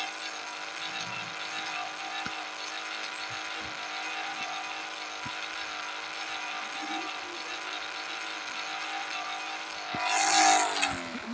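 A car in the driving game Custom Cars Online holds a steady, droning engine note with harmonic whine, fitted with an upgraded exhaust, then briefly surges louder with a burst of tyre noise near the end.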